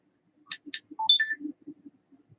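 Phone giving off a short run of electronic beeps and chirps, a few quick tones in close succession, near and fairly clear against quiet.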